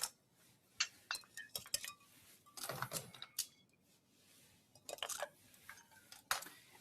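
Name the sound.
ice being added into a cocktail glass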